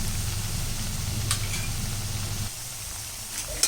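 Masala vada fry in hot oil after being flipped, a close, even sizzle with a low bubbling undertone that eases partway through, ending with a couple of sharp clinks.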